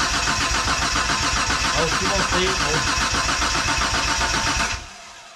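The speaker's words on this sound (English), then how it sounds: "It did sound good cranking it over" A 1992 Dodge Stealth R/T twin-turbo engine cranks over steadily and loudly for about five seconds in a fast, even rhythm before cutting off abruptly, with a short spoken exclamation over the top.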